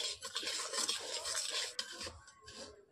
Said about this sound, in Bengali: সুজিটাকে আমি লালচে করে ভেজে নিচ্ছি